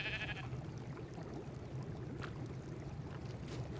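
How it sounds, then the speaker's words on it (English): Sheep in the video game ARK give a few faint, brief bleats over a low, steady ambient hum, with no voices. "It's a purple sheep."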